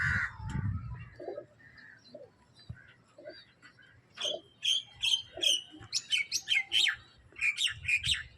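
Madrasi pigeons in a loft make a low cooing at the start and end of the clip. In between come bursts of quick, high chirping calls, close and clear with short gaps.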